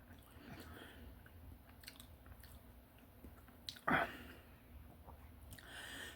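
Soft, close chewing of cooked pork brains in milk gravy, faint moist mastication with one brief louder bite, under quiet breathy talk.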